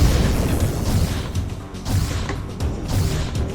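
A booming shock-ability blast from the strategy game Arena Wars 2, a loud rumbling burst followed by a couple of smaller pops and crackles, with no talk over it.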